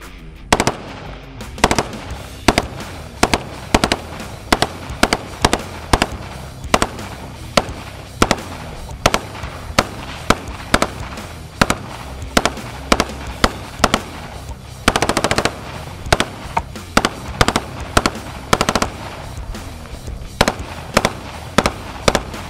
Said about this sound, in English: We're gonna go a little full auto in the front with the pineapples and the fruit punch soda cans.